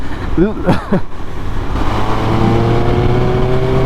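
A Triumph Speed Triple 1200 RS motorcycle accelerates on a road, its engine note rising steadily under wind noise after a voice speaks briefly at the start.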